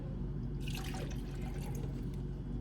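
A cup of water is poured into a shake container, a close splashing, trickling pour lasting about a second and a half over steady low background hum, with no talking.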